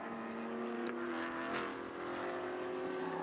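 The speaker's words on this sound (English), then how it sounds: "These are high-performance engines in very light chassis cars." High-performance race car engines in light chassis sports prototypes at an Asia Le Mans Sprint Cup race, a continuous high-pitched engine drone with a rising whine, heard at a distance and fairly faint.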